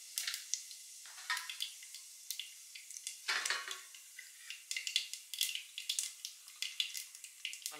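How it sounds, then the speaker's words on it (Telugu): Mustard seeds and cumin sizzling and popping in hot oil for sambar, a steady crackle with sharp, irregular pops close by, and no talking. "ఆయిల్ హీట్ అయిపోయిన తర్వాత ఇప్పుడు మనం ఇందులో ఆవాలు వేసుకుందామండి ఫస్ట్."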